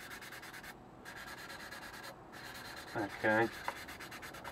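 Fine sanding on a 1/48 scale Junkers Ju 88 model over a patch of Mr. Surfacer 1000 filler gives a quiet, close, rhythmic rubbing, with a person briefly speaking near the end.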